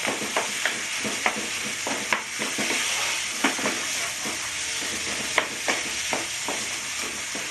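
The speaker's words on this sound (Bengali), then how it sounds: "অনেকক্ষণ ধরে আমাকে এইভাবে খুঁটি দিয়ে দিয়ে পুরো চেপে চেপে চেপে চেপে আমাকে ভাজিটা করতে হবে" Pav bhaji vegetables are mashed and fried in a pan, with a steady bright sizzle under repeated sharp pressing and scraping strokes from a masher, about one or two per second, close and continuous with no talking.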